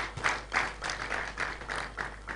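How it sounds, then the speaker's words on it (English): An audience at a university public lecture applauds a professor's introduction: steady, moderate clapping from many hands, heard at a slight distance over a low hum. "it's worthy of a clap"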